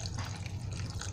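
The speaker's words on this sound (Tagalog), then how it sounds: "Lagyan po natin ng konting tubig." A little water is added to a pot of boiling meat while squash is being cooked, giving a short, close pour with soft splashing over a steady low bubbling hum and no talk.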